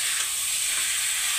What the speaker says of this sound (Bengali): 1-2 মিনিটের মতন মাংসটাকে একটু ভাজা ভাজা করবো পেঁয়াজের সঙ্গে